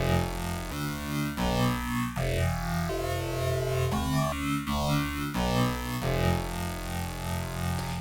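An additive synthesis tone built from stacked harmonics holds a loud sustained chord, with its pitch bending and stepping between notes several times.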